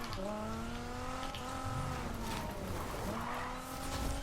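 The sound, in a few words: car drifting with tire squeal in Need For Speed Heat video game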